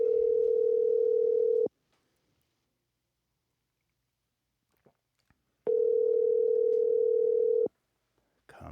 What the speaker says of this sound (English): Phone call coming.